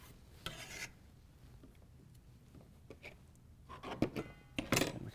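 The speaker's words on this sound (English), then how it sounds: "we can wipe down our board between" A cutting board is wiped down in a kitchen, with soft rubbing and scraping strokes, some light knocks, and a burst of louder friction near the end.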